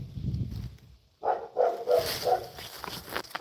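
A dog barks several times in a quick run of sharp, mid-distance barks outdoors during a post-Thanksgiving fossil hunt, following a brief low rumble and a pause.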